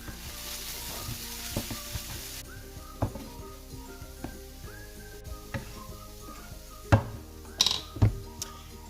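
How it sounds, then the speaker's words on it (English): Onion, spring onion and thyme samosa filling simmering in a pan, a soft steady sizzle broken by occasional clinks and taps of a utensil against the pan, growing sharper toward the end. "And allow to simmer for 2 minutes"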